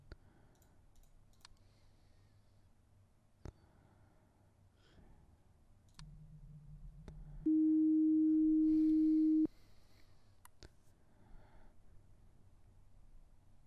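Synthetic distortion anomaly sound in a bedroom in the horror video game I'm on Observation Duty 4, a low buzzing hum followed by a steady electronic tone of about two seconds amid sparse mouse clicks.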